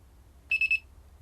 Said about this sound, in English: And we also get 3 beeps when we arm